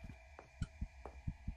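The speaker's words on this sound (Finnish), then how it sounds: "toi sydämen syke siis kertoo, koska se on lähellä" Heartbeat warning cue from the horror video game Crimson Snow: a handful of deep, close double thumps in a quick pulse over a steady electronic hum, with no voices.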